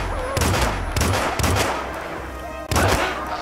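Gunfire in the Hitman game at a Bangkok club comes as several loud bursts of rapid shots with short gaps between them, close and harsh, with no speech over them.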